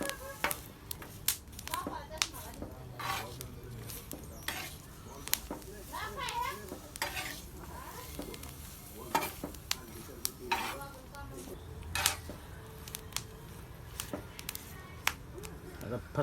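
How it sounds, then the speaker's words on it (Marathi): Green chillies roast and crackle on a hot griddle in a village-style kitchen, giving scattered sharp pops and clicks, with occasional clattering as they are stirred and a voice faintly in the background. "बघा हे तडतड वाजायला लागल्यात."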